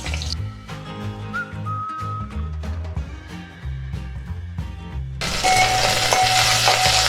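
Onions dropped into hot mustard oil start a sudden loud, steady hiss of sizzling near the end, following a stretch of quieter tonal background sound without talk.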